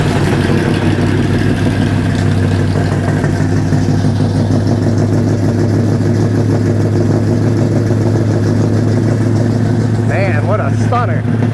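A 1962 Plymouth Savoy with a 440 V8 runs on its electronic choke, a loud, close, continuous rumbling idle with some clatter, steady throughout.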